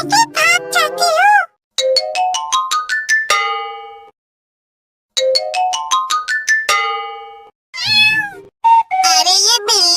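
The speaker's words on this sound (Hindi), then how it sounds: "अरे ये बिल्ली कहाँ से आ गई?" A cartoon cat meows in a string of bright, tuned, jingle-like calls, with rapid repeated notes broken by a brief silence and ending in wavering mews, loud and close.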